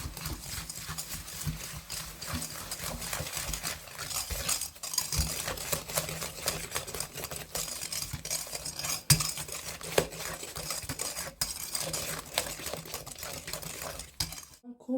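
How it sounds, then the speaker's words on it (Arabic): Two room-temperature eggs, half a teaspoon of vanilla and a cup of sugar are stirred together in a bowl for cookies, with steady clinking and scraping of a utensil against the bowl throughout. "هلا بدي أحركهم سوا"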